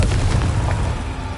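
A Confringo blasting spell goes off in Hogwarts Legacy, a loud, rumbling boom that stays dense and heavy for the whole moment, with no voices over it.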